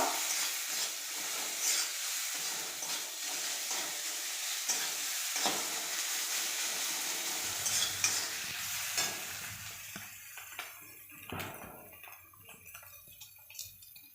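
Turmeric being stirred into frying katla fish curry in a pan, a steady broadband sizzle with repeated scraping stirs, easing into quieter, sparser crackles near the end.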